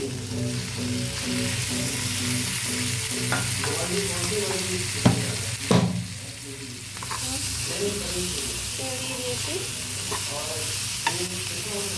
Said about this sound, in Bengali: এখন আমি এটা ভালো করে ফ্রাই করে নেব